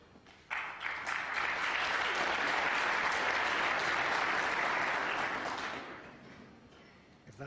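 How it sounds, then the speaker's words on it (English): Supporters at the 2001 Masters snooker quarter-final at Wembley applaud a break-off shot by Jimmy White, a sudden dense burst of clapping from a large crowd that holds steady for about five seconds, then fades. "If that's how White's supporters applaud a break-off shot, what will they be like later?"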